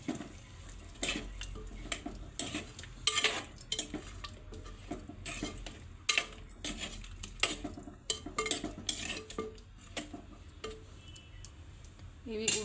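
Ginger paste being stirred into chicken in a clay pot: close, irregular scrapes and clinks of a utensil against the pot, repeating steadily with a faint low hum underneath and no talking.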